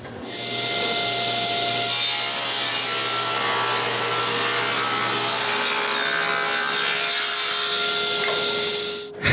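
Close, steady whine of a table saw ripping thin wooden urn panels, the blade cutting continuously for several seconds before spinning down near the end.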